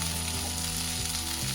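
Cauliflower frying in oil in a covered pan, giving a dense, close, continuous sizzle with a faint low hum underneath and no talk.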